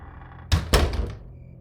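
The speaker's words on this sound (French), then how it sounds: "Le plateau rentre lentement dans le tiroir, qui se referme sur moi." A morgue drawer sliding shut, heard as two heavy thuds in quick succession with a short metallic ring fading afterward, close and loud against a quiet room.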